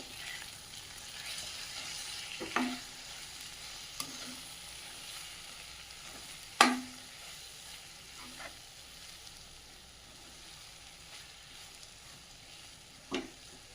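Capsicum rice ingredients fry quietly in a pan, with a soft, continuous sizzle broken by a few scattered clicks and scrapes of a stirring spoon.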